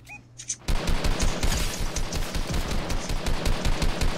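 Rapid automatic gunfire in Fortnite Mobile, a dense, loud burst of shots beginning after a brief quiet moment and continuing steadily to the end.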